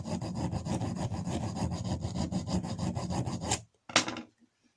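A hand file rasps along the blades of cordless garden grass shears in fast, steady back-and-forth strokes, close and loud, stopping near the end with one last short stroke.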